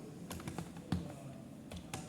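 Quiet typing on a computer keyboard while entering data into an Excel spreadsheet: a loose run of light clicks and taps with one sharper keystroke near the middle, and no talk.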